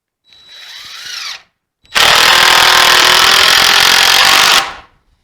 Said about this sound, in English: you can install your screws to hold it down